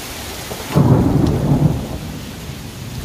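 Rain falling outdoors at a tiger enclosure, with a low rumbling burst of heavier downpour or distant thunder swelling at about the first second, then easing to a steady soft hiss.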